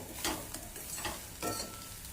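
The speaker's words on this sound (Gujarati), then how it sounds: "બરાબર તેલમાં શેકી લઈએ" A leftover millet rotlo being fried with spices in oil, a soft steady sizzle with a few brief scraping stir strokes, fairly quiet and without talk.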